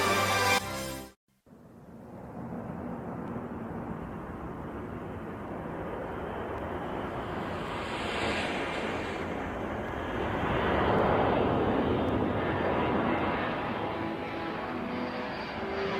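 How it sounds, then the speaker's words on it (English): C-141 military transport aircraft taking off from Thule Air Force Base, a loud, broad jet roar that holds steady and swells slightly as it climbs away, continuous and alone. "A C-141 lifts off from Thule Air Force Base."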